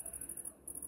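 Crickets chirping in rapid pulsing trills, faint and high-pitched in the background with a short pause midway, no talking.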